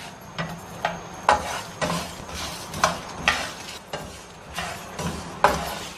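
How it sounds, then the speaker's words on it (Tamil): Coriander, fennel and cumin seeds roast in a pan, with a steady rhythm of rattling, crackling strokes about twice a second as they are tossed and stirred. "சட சடன்னு பொரியிற சத்தம் வரும்"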